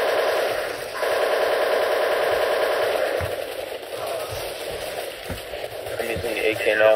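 Rapid AK rifle fire in Counter-Strike: Source Gungame, a dense continuous burst running under a talking voice, with a few sharper isolated shots near the end.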